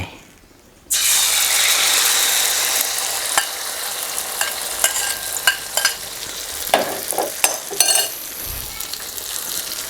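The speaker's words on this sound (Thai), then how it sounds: "เมื่อน้ำมัน ของเรา น่าจะร้อนได้ที่แล้ว ผมก็จะใส่ ไข่นะครับ ลงไป" Beaten egg for a cha-om omelette hits hot oil in a pan and bursts into a loud, steady sizzle that continues throughout, with scattered clicks and scraping knocks from a utensil stirring and spreading it.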